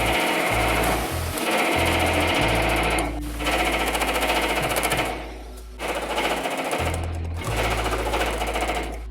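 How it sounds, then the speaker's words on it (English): A loud, rapid mechanical hammering from a Bailey power hammer with thumbnail shrinking dies pounding sheet metal, stopping briefly a few times before starting again, harsh and close. "So we have a Bailey power hammer that we've had for, I don't know, like 10 years."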